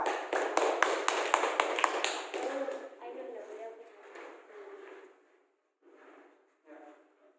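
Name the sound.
children clapping for Nisa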